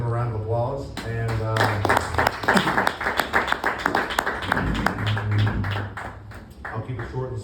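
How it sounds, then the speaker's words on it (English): An audience claps for people honored at a portrait unveiling event, uneven and moderately loud applause mixed with voices talking and calling out over it. "give the people that were honored tonight, give them a round of applause"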